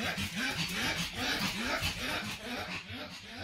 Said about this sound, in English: Oh, the dogs are with us.